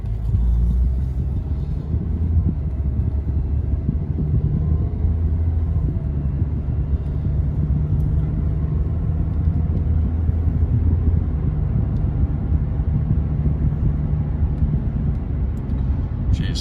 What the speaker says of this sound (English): mind the rattling. The car just got a new exhaust the other day and it needs to go back to get tightened up